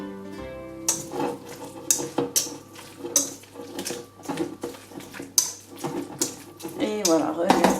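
A spoon stirs okonomiyaki batter with chopped pieces in a bowl, sending out repeated close clinks and wet scraping strokes in a loose rhythm, with some faint background hum.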